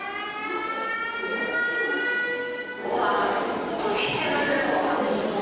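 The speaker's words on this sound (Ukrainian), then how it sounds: "у ліцеї знову звучить сигнал повітряної тривоги" An air raid siren wails steadily in the distance at a school in Ukraine, holding a rising and falling tone, with a burst of louder noise partway through.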